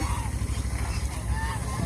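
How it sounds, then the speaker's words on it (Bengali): A flock of domestic geese on a farm gives repeated nasal honks over a dense, noisy background of birds calling together, moderately close. "আমার সবগুলি হাঁসই এখন মিটিং করতেছে"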